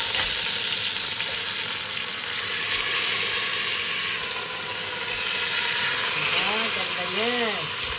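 Pork meat for sauerbraten fries in a pan with a steady, close sizzle and hiss, while a voice talks over it.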